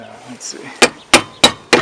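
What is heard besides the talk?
mallet tapping on Subaru Impreza rear brake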